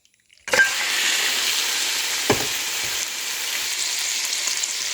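Mutton hitting hot oil with whole spices for aloo gosht gives a sudden loud, steady sizzle that holds for several seconds, broken by a couple of brief clacks of a spoon against the pot, with no voices.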